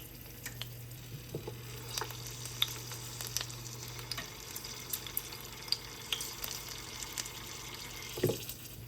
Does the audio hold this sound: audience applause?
no